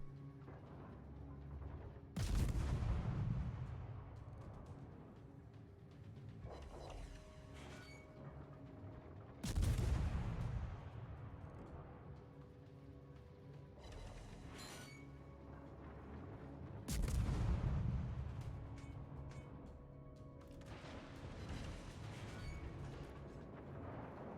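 Broadside salvos from a Z-31 German destroyer's guns in World of Warships, three heavy booming volleys spaced several seconds apart, each with a long rumbling decay, no voices.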